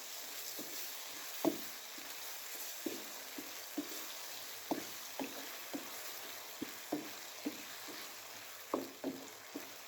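Vegetables and chilli sauce stirred in a pan for chicken vegetable macaroni, a soft steady sizzle with regular spoon scrapes and knocks every half second or so, close and moderately quiet, no talking.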